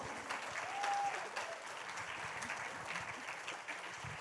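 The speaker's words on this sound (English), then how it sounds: "please give applause to Pak Paul." Conference audience at an English language teaching event applauding a speaker: dense, even clapping from many people at moderate loudness, sustained throughout without talk.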